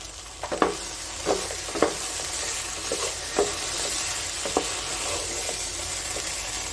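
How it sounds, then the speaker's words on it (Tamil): Okra already fried in ghee is stirred with prawns in a hot pan, giving a steady close sizzle with several sharp spoon scrapes and clicks scattered through it, no voices. "நம்ம ஏற்கனவே நெய்யில் ஃப்ரை பண்ண இந்த வெண்டைக்காவை இது கூட ஆட் பண்ணிக்கிறேன்."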